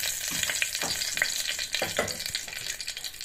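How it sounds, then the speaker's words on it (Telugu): Mustard seeds spluttering in about two spoons of hot oil in a pan, a steady close sizzle broken by many sharp, irregular pops and crackles throughout. "ఆయిల్ వేడిన తర్వాత ఆవాలు"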